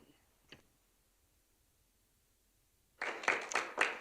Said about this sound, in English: You get a clap.